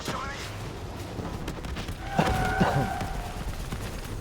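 Video game gunfire in a busy battle, a burst of rapid shots and impacts rising in the middle of the clip over constant game noise, with voices talking over it.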